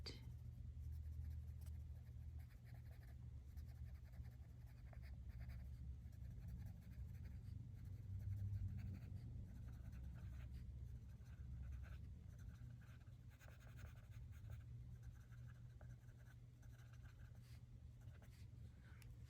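Colored pencil lightly shading on paper, soft continuous scratchy strokes at low level, close and quiet with no talk.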